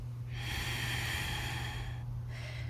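Long deep breath during a yoga session, one steady airy exhale lasting about two seconds followed by the start of another breath, close and clear with a low hum beneath, no talk.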